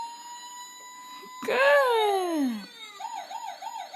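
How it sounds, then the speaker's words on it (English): A toy transportation puzzle plays a tinny electronic ambulance siren, a rising then falling wail followed by a warbling alternating tone, close and loud, with a single brief word spoken just before it. "Ambulance. Where's the ambulance go?"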